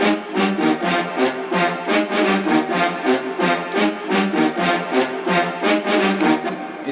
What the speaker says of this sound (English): It's based on a trumpet kind of sound